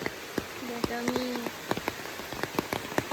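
Steady rain patters on a sky bridge in a minority village in Xishuangbanna, a constant wash of close drips with sharper scattered drop hits, plus a brief tonal sound partway through.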